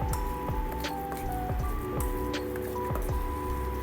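Salmon croquette mixture with curry and flour being stirred in a bowl, wet squishing and dripping strokes repeating about twice a second, close and steady, with no talk.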